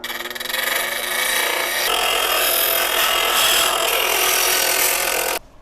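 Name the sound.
sawing aluminum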